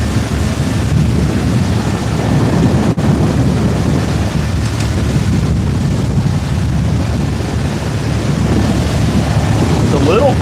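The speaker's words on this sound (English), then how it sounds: "A little breezy this morning." Steady wind gusts buffet the microphone on a sportfishing boat at sea off Florida on a breezy morning, a constant loud rumbling roar with faint wave wash underneath and no clear speech.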